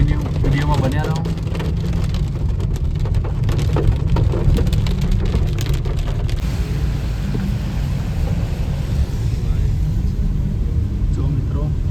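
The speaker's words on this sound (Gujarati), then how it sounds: "વરસાદ આવી રહ્યો છે" Rain falls steadily in the Uttarakhand mountains, a thick, continuous hiss of drops with a low rumbling undertone, close and unbroken, easing slightly toward the end.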